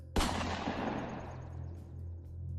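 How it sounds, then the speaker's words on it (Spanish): A burst of gunfire cracks out sharply, then a deep booming rumble rolls on and slowly fades, the loud blast heard alone with no talking. "una ráfaga de balazo retumbó contra la pared de madera"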